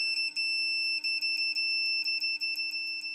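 Uni-T UT196 multimeter on continuity test with Probe Master leads, giving a loud, steady high-pitched beep tone that holds for about three seconds with brief flickers as the probe contact shifts.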